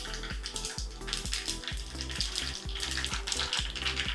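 Mustard seeds and dried red chillies crackle and sizzle in hot oil with urad dal for a tempering, a dense steady hiss with faint popping, close and continuous with no talk.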